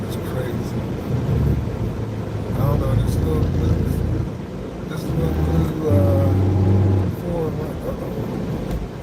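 Continuous road traffic with a steady engine rumble and passing vehicles, heard from inside or beside a car, while someone talks over it throughout.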